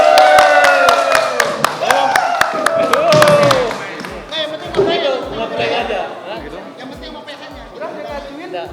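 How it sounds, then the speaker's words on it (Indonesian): An audience at a heated Indonesian talk-show discussion claps, a loud burst of sharp, rapid hand claps that fades after a few seconds into chatter and talking voices. "Tepuk tangan dulu. Tepuk tangan."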